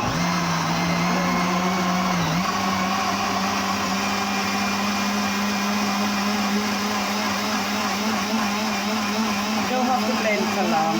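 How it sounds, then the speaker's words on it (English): A kitchen blender runs steadily, whirring loud and close as it purees plums, grapes, kiwi, apple and cucumber into juice, with a constant motor drone and a brief dip in pitch early on. "So I'm going to stop my blender now because all blend."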